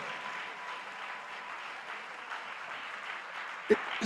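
An audience at a youth day event at KNUST applauding the chief farmer of Agro Kings, a steady wash of many hands clapping at moderate distance, with a sharp clap near the end.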